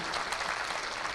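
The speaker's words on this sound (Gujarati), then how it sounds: "તાળીઓથી વધાવીએ" Brief burst of audience applause at a school motivational program for parents and students, a dense, even patter of many hands clapping with no talk.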